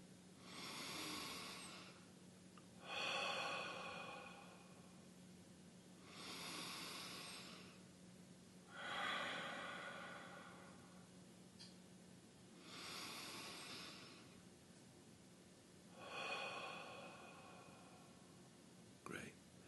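Slow, deep breaths during a guided meditation, several long airy inhale-exhale cycles at a steady unhurried pace, close and soft, with no talking over them.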